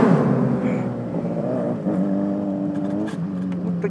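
A Fan 125 motorcycle fitted with a Honda Hornet engine revs up while riding through the city, a loud close engine note rising in pitch over a few seconds.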